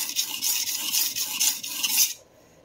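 A stainless steel santoku knife scrapes in repeated strokes across a coarse whetstone, a bright rasping rhythm of about five passes that stops abruptly near the end, close and alone.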